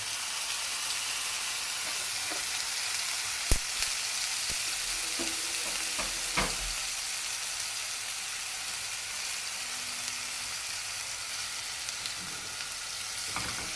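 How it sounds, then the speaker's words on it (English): Pork sizzles steadily in a hot frying pan, a loud continuous crackling hiss with a few sharp pops and clinks. "when we put the pork in the pan, we're looking for a nice sizzle"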